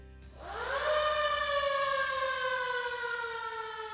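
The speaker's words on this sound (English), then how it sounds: "We started off with a siren" A loud fire siren at a fallen firefighters memorial service winds up from a low pitch into a steady, piercing wail that holds for several seconds.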